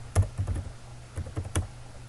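Keys on a computer keyboard are tapped in a short, irregular burst of clicks, close and fairly quiet, with no talking.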